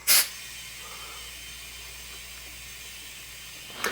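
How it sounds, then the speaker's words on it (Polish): Steady, fairly quiet hiss of air inflating a tyre to seat it on the rim, lasting several seconds, with a short louder burst at the start and another at the end. "No to teraz będziemy sobie pompować po to, żeby oponka wskoczyła na felgę."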